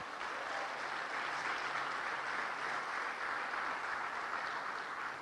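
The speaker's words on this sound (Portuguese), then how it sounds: "Você pode dar uma salva de palmas ao Senhor?" A church congregation applauds during a family worship service, steady dense clapping filling the room throughout without talk.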